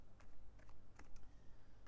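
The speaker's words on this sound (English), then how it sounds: "I'm just going to see if the cards need a little bit more shuffling" A deck of tarot cards is shuffled by hand, giving faint, soft clicking and riffling bursts that come in uneven clusters, quiet and close, with no voice.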